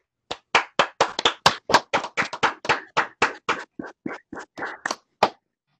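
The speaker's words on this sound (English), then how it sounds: "Join me in a round of applause, please." A few people clap at a board of education meeting, about twenty distinct, close, evenly spaced claps in a steady rhythm that slows slightly and stops near the end, with no talk.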